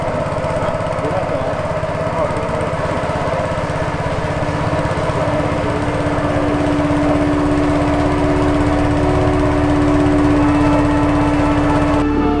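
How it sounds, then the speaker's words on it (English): A boat engine runs in a loud, steady, buzzing drone near a riverside cave, continuous throughout and close by, with a rising whine creeping in toward the end. "Let's turn on the engine."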